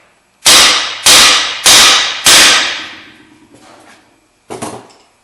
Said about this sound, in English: A couple of really sharp raps with the hammer and it'll pop down.